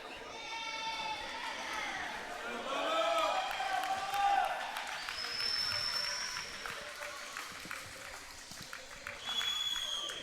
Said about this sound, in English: Round of applause from the yokels here in Jasper.